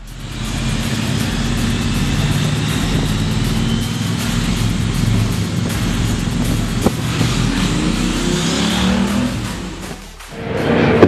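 A 2017 Triumph Bonneville Bobber motorcycle engine drones steadily while riding, a loud continuous low rumble with wind noise, easing briefly near the end before rising again.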